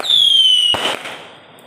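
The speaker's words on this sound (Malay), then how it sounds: "Kita nak bakar mercun dulu." A firecracker set off outdoors on a Hari Raya night gives a rising whistle that glides down in pitch, then ends in one sharp crackling burst and a fading tail.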